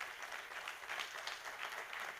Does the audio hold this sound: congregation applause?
yes